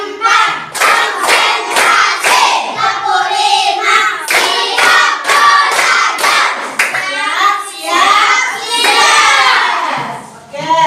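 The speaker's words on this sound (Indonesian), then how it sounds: "Tepuk semangat dulu ya." Schoolchildren in an Indonesian classroom do a rhythmic tepuk semangat clapping chant, sharp claps in counted bursts mixed with loud shouted voices throughout.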